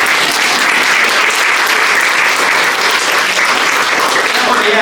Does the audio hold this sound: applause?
yes